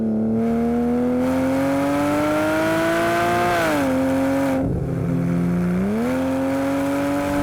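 A modified 2007 Porsche Cayman engine revs hard while driving, its loud tone climbing steadily, dropping briefly at a shift and then rising again, close and continuous throughout.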